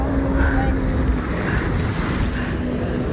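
Steady wind and rushing water around an inflatable banana boat on cold open water, a continuous roar of surf and wind noise buffeting the microphone with no clear voices.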